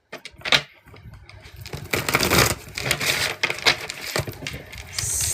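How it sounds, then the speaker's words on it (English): A tarot deck with hard, thick card stock shuffled by hand, giving repeated close riffles, taps and papery flutters in uneven bursts that grow busier after the first couple of seconds. "This really hurts my thumb when I shuffle it because the card stock is a bit hard."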